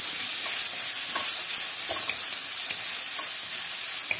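Tomato sizzles in a pan of oil while being stirred for sabudana upma, a steady frying hiss broken by soft scraping strokes of a spoon at an even pace.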